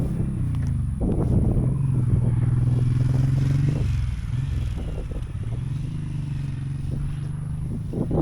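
A Suzuki motorcycle engine idles and revs nearby, a steady low rumble rising in pitch for a few seconds before settling back, with some clatter in the background.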